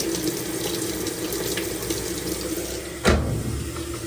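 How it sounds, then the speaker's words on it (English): Water runs steadily into a GE washing machine that had a draining fault, a continuous close hissing flow with one brief knock near the end. "Put some water in."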